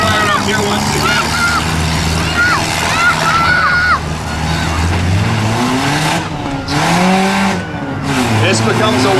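Cars revving and grinding through a Poor Man's 4-6 cylinder demolition derby final heat at Brigden in 2015, engines droning loud and steady with tire squeals, while an announcer talks over the whole stretch.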